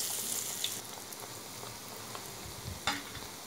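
Eggplant pieces frying in hot oil for a Bengali eggplant and potato dish, a steady soft sizzle with faint crackles and one sharper pop near the end, no voices.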